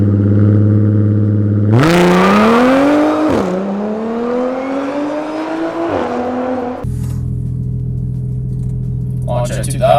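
An Audi S4 on an 034 Motorsport E40 tune launches hard from a standstill at close range, loud revs climbing through gear changes before dropping back to a steady drone, with brief voices near the end.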